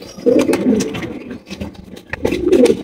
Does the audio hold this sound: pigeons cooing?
yes